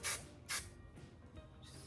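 Hairspray misted onto teased hair at the crown while styling a 1950s set made with sponge curlers, two short close hissing bursts followed by faint rustling.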